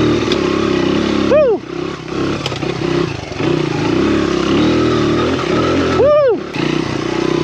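An old Honda XR dirt bike engine climbs a hill on a solo trail ride, revving loudly and steadily close to the microphone, with two sharp rising throttle blips and brief drops in between. A rider talks over it.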